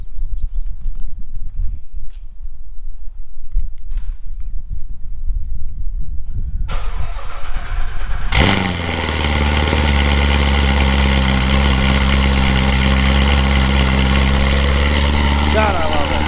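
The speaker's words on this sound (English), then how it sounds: "A good cold start never gets old." A Corvette Z06 engine fires up from a cold start after a quiet stretch with faint rustling, then settles into a loud, steady, close idle with a deep rumble.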